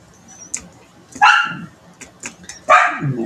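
A dog locked outside barks in short sharp bursts, a few isolated yips followed by two louder barks, fairly close, with no talking.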